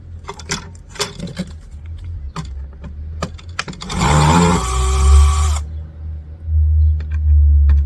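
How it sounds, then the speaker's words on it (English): Screws from a scrapped first-generation flat screen TV are thrown into an old plastic foot spa, first as a series of sharp clinks and rattles, then as a longer loud clattering pour, with a low rumble underneath. "I'm actually throwing my screws into an old foot spa because there's that many screws"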